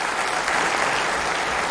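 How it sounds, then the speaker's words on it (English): An audience applauds the President at a Diwali celebration at State House in Nairobi, a dense and steady clapping that fills the whole stretch with no speech over it. "A warm round of applause for His Excellency one more time."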